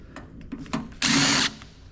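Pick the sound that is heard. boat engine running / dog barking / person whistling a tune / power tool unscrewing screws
power tool unscrewing screws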